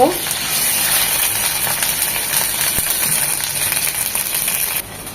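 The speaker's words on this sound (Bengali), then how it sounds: "এক মিনিট আদা রসুনটাকে ভেজে নেব" Ginger garlic paste fries in hot oil with softened onions, a loud, steady broadband sizzle that continues almost unbroken before easing near the end.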